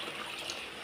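Water used to rinse a mixer jar is poured into simmering chicken gravy, a faint, continuous splashing pour lasting under a second.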